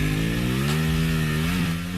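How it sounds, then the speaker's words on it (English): A Ducati motorcycle engine revs hard and steady during a wheel spin, a loud, continuous droning roar held close for the whole moment with slight pitch wavering and no voices. "wouldn't it be better if the sound was actually the Ducati that we see on screen?"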